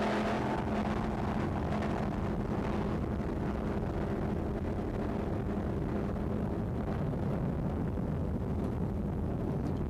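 A 28-foot Velocity offshore racing powerboat running in the Factory 1 class, a loud, constant engine roar with wind and water rush filling the whole stretch, no talking.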